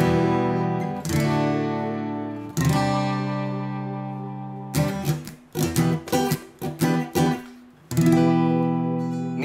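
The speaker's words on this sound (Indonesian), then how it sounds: "coba kita pakai efek wah ya, yang cry baby" An electric guitar, a Lava Me 3 smart guitar, is played through a Cry Baby wah pedal. It sounds loud and close, with sustained strummed chords and then a burst of short choppy rhythmic strums with a sweeping wah tone.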